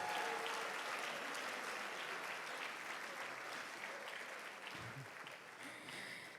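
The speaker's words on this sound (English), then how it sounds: "Please, another round of applause for our Ezimo." Sustained round of applause from a live audience at a speaking event, dense and steady throughout, easing slightly toward the end.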